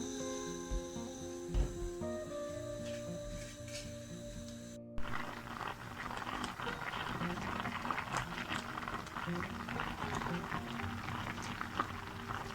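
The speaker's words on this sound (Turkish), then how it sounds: "Şöyle kabağımız kaynıyor pişmesine az kaldı göstereyim dedim." Bubbling and simmering squash boiling in a pot for a dessert fills the clip, a busy crackling boil after a brief kitchen clatter, fairly quiet and close.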